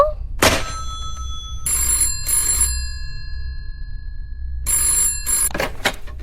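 An old-fashioned telephone bell rings in loud, repeated bursts with short silent gaps between them, with no voices heard.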